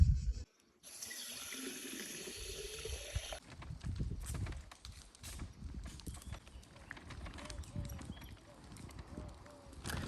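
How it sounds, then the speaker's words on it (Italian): Water runs from a working drinking fountain in a small village, a steady close splashing stream with faint background noise after a quiet opening. "adesso invece ho trovato questa fontana che funziona e l'acqua è anche molto più buona"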